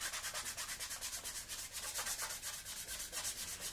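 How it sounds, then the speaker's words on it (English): A wet cloth rubs over a model's surface, wearing through weathering paint for a grimy finish; steady, close, rhythmic scrubbing strokes repeat quickly without pause. "rubbing through to give you that sort of nice grimy look"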